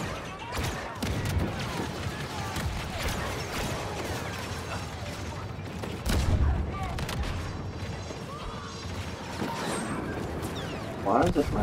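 A turret firing in a Star Wars video game battle at Starkiller Base: dense mechanical blasts and booms rise from constant loud combat noise, with heavier hits around the middle and end.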